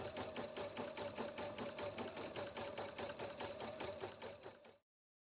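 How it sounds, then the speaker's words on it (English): A Husqvarna Viking Platinum Plus sewing machine stitches a satin stitch on a cutwork embroidery design, giving a fast, even mechanical rattle of needle strokes. It is steady and close, then stops abruptly near the end. "Touch Start Stop, and Platinum Plus finishes the cutwork design with a beautiful satin stitch."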